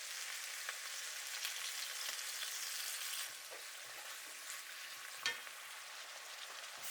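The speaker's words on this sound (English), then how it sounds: "Cook savory Ghost Soboro, seasoned with soy sauce, sugar, and mirin." Savory ghost soboro, minced meat seasoned with soy sauce, sugar and mirin, cooking in a pan with a soft, even sizzle and faint stirring scrapes and taps, quiet and close, no speech.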